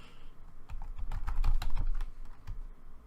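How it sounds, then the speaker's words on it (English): Someone types quickly on a computer keyboard, close to the mic. Key clacks come in a fast, uneven flurry that peaks in the middle and then thins to a few scattered taps. "Whoa, I can't type for shit if you saw that."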